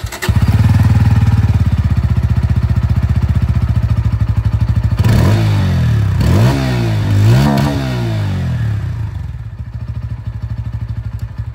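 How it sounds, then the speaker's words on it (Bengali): A 2025 Bajaj Pulsar N160 160cc motorcycle with an underbelly exhaust idles loudly and close with a steady thrum, then revs up several times in rising and falling bursts before settling back to idle. "এবার আপনাদেরকে আমি এখানে যে এক্সস্ট সাউন্ড সেটাও শুনে দিই"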